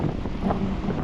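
Steady, broad rushing wind buffets the microphone throughout, a constant low roar with no voices.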